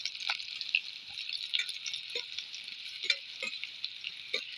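Steady crackling sizzle of chopped onion frying in hot coconut oil, with occasional soft stirring clinks and scrapes close by.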